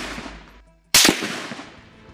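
A Chinese 7.62mm precision sniper rifle fires outdoors at a target range: a single sharp, loud crack bursts out after a brief near-silence, then fades with a short echoing tail.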